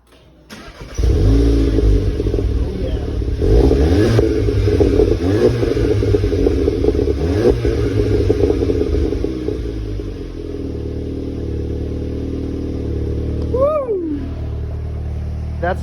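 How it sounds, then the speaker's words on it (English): A race car engine fires up with a sharp crank and catch, then revs hard in loud, rising and falling bursts before settling into a steady, rumbling idle, close by and dominating the scene. "But first off, firing up the car."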